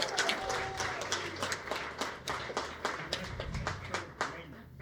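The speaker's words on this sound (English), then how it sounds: "Can we give them all a round of applause?" Scattered clapping from an audience at a launch party hosted in a brewery, individual claps audible as uneven taps at moderate distance, with faint voices murmuring underneath.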